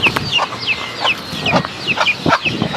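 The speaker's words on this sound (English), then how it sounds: "Get out of here, chicken." A chicken in Florida clucks repeatedly in short, agitated bursts, close and fairly loud, with a few sharper squawks among the steady series of calls and no talking.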